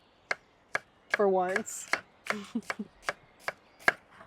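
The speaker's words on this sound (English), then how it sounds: "So I'm gonna cut to this onion actually" Crisp, evenly spaced knife chops through an onion on a cutting board, about nine sharp strikes at close range with a brief spoken phrase and a voice in between.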